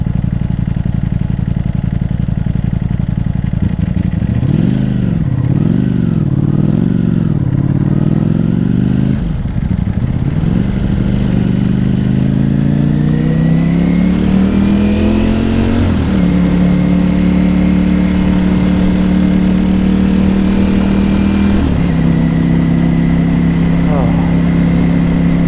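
Ducati V4 Panigale engine on the move, a loud, steady mechanical drone that rises and falls with throttle changes and climbs through the revs, heard close with wind noise and some speech over it.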